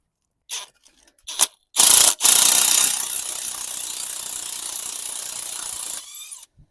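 A screw is driven through worn, damaged threads on an MG TF with a power driver, giving a loud burst of grinding whir followed by a long, steady mechanical rasp that cuts off abruptly, with a few short clicks before it starts.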